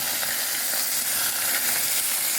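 Beef frying in a pan at a backyard camp setup, a steady close sizzle and hiss of hot oil running unbroken and fairly loud, with no voices over it.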